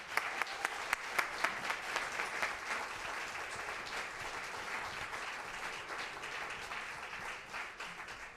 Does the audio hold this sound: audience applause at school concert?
yes